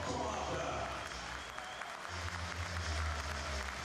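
Fans in a Vilnius basketball arena clap and cheer, a dense wash of applause with crowd noise and a low rumble swelling near the end.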